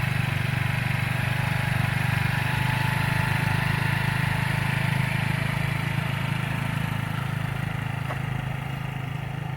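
A small motorbike engine runs steadily throughout, a low continuous drone of a beginner rider moving slowly on a Philippine road, fairly close and unbroken, with no one talking.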